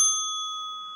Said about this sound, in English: At the 100th second, a warning bell will be given like this.